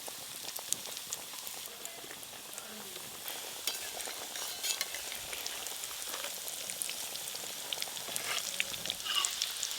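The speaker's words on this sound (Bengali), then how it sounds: "তেল গরম হয়ে গেছে, এবার ভেজিটেবল চপগুলো ভেজে নেব।" Vegetable chops deep-frying in plenty of hot white oil make a dense, crackling sizzle like light rain, steady and fairly quiet from start to finish with no talking.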